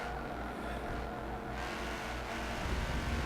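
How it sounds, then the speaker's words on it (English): Engine of a European car revving hard past its limit, a dense continuous roar at moderate loudness with no talk over it. "Whoa, over rev."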